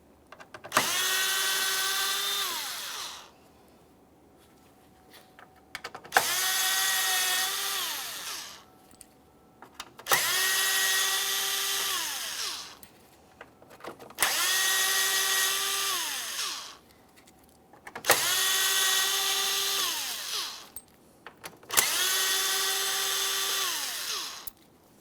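Power driver spinning out T15 screws from the front grille of a 2017-2024 GMC Acadia, six separate whirring bursts of a few seconds each with rising and falling pitch, close and loud, separated by short quiet pauses.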